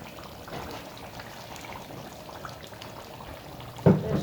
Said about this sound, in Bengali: দিয়ে দিচ্ছি বাটারটা চতুর্দিকে